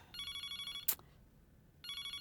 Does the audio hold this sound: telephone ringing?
yes